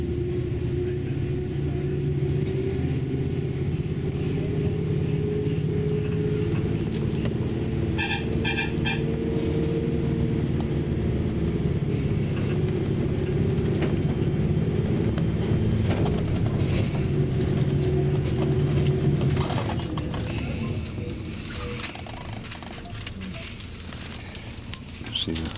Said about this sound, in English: still we grind our way down one hairpin after another